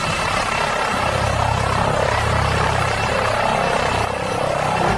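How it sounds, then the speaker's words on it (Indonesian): Toy police helicopter whirring steadily at close range, a continuous buzzing rotor drone with a low mechanical hum running unbroken throughout, with no voices. "yang ini ada helikopter polisi"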